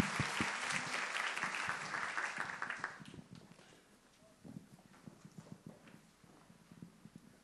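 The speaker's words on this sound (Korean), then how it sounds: "박수로 맞아주시기 바랍니다." Congregation applause at a church youth worship service, a loud burst of clapping for about three seconds that quickly thins out into a quieter, scattered room murmur.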